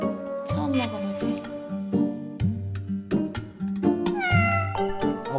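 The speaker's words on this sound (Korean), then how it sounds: "고양이 귀가 뒤로 젖히면 경계하는 거죠?" Several meows from a cat with drawn-out falling and rising tones, close and fairly loud, repeating across the whole stretch while it is offered food it refuses, with people murmuring faintly in the background.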